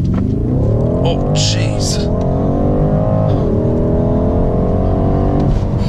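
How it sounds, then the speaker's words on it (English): A 2018 BMW M550i engine roars loudly as it launches with launch control, pitch climbing steadily through the gears with a brief dip at each shift, while a person exclaims over it. "What we're gonna do here on this fun little stretch is to try out the launch control."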